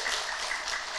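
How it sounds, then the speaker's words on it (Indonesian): Applause from a religious lecture audience, a steady dense wash of clapping lasting about a second at moderate level, with no voice on top. "tepuk tangan dulu."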